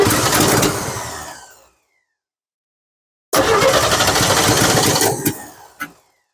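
1963 Chevrolet C10 pickup engine cranked on the key: a rough burst of cranking and sputter that dies out, a silent pause, then a second loud attempt that catches briefly before fading with a final cough.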